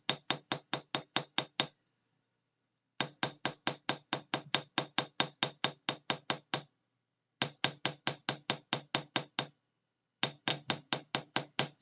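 Small hammer tapping fine silver hoop earrings to texture them, quick bright metallic taps in rapid even bursts of about eight to twelve strikes, separated by short pauses, close and crisp with no talking.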